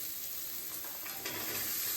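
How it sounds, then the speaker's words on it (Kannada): Mushrooms, carrot, beans and peas frying in a pan for ragi vegetable soup, a steady close sizzle with faint stirring, no voices. "ಮಶ್ರೂಮ್, ಕ್ಯಾರೆಟ್, ಬೀನ್ಸ್, ಪೀಸ್ ಇಷ್ಟು ಹಾಕ್ಕೊಂಡು ಚೆನ್ನಾಗಿ ಫ್ರೈ ಮಾಡ್ಕೊಂಡಿದ್ದೀನಿ."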